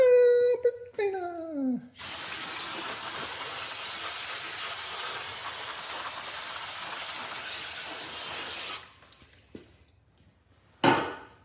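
Aerosol brake cleaner sprays onto the rear brakes of a Honda Pilot in one long, loud, steady hiss lasting several seconds, with a few short handling sounds before and after.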